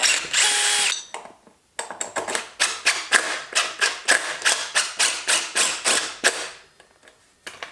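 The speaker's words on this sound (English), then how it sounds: "Turns out I gotta drill out these holes." A power drill bores out bolt holes in a trike wheel hub: an initial sustained whine, a brief pause, then a steady series of about fifteen short, rhythmic bursts of drilling, close and loud, with no talking.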